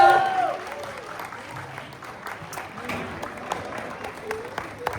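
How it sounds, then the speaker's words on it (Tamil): An audience at a school annual day dance show in California claps after a performance, a moderate burst of applause that starts strongest and thins out, with a voice over a microphone speaking across it. "ஒரு பெரிய கைத்தட்டல் கொடுத்தலாம்."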